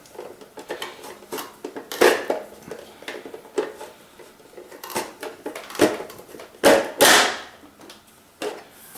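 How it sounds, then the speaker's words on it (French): Potato sliced into fries on a Duomishi multi-function mandoline with its lid pressed down, heard as sharp clattering cuts and plastic knocks, with a few loud chopping bursts near the end. "Voilà, les frites sont coupées directement."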